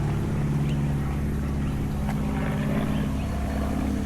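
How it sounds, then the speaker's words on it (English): A plane passes overhead above a Japanese garden in botanical gardens, a steady, broad engine drone filling the whole stretch without talk. "the serenity's only messed up by that plane flying over"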